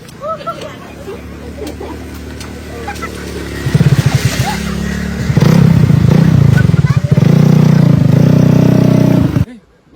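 A motorcycle engine runs and revs, growing louder and rougher midway as it pulls off and accelerates, with clattering and voices around it before it cuts off abruptly.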